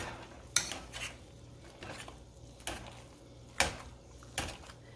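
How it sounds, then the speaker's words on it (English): Four large Idaho potatoes being mashed in a pot, a handful of distinct metallic knocks of the masher against the pot at irregular intervals, fairly quiet and close with no talking. "Just gonna continue to mash these up a little bit"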